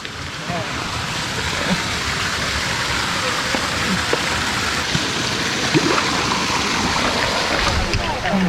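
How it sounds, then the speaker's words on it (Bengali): The big Khoiyachora waterfall thunders steadily, a dense, loud roar filling the scene without pause, while people seem to talk faintly beneath it. "সাউন্ডটা মনে হইতেছে যে মানে বড় ঝর্ণার।"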